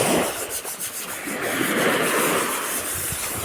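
Close, continuous scrubbing by hand against a soaked cooking pot to loosen stuck rice, a rough swishing scrape that keeps going without a break.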